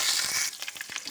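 Fenugreek seeds, mustard seeds, crushed garlic and curry leaves frying in hot oil, a brief steady sizzle with small crackles and pops near the end.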